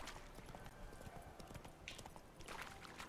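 Horse hooves clip-clopping in The Witcher 3: Wild Hunt, a steady rhythmic trot of faint close hoofbeats under the game's ambient sound, with no talk.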